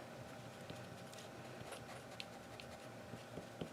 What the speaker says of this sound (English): wherever you can see the pencils, erase it away.